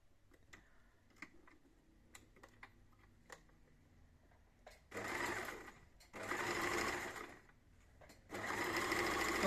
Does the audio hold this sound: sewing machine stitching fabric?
yes